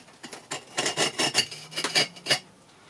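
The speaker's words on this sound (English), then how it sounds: "So we just take our chisel, run it up the back of the other brick," A steel chisel scrapes up the back of a brick to mark a cut line for a DIY glass-fusing kiln build, a series of short, close, gritty rasping strokes in an uneven rhythm.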